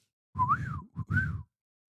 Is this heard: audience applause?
no